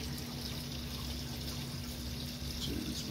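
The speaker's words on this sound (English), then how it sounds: "it's just pulling water from the sump as the sump spits water into the tank" A reef aquarium sump pump pushes water back up into the display tank, giving a steady, continuous rush and trickle of flowing water with a low hum underneath, close and unbroken throughout.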